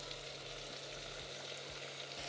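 Garlic frying with chorizo in a pan inside a small camper van, a steady soft sizzle with faint low hum underneath, no voices.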